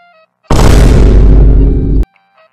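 A firework move explodes in the Loomian Legacy video game: a single loud, close boom with a sharp onset and a roaring tail that lasts about one and a half seconds before stopping abruptly, set against quiet game tones.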